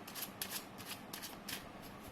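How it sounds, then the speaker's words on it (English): Tarot cards are shuffled quickly, a few soft riffling bursts of papery flutter, close and fairly quiet, with no talking. "I'm just going to give it a quick shuffle again."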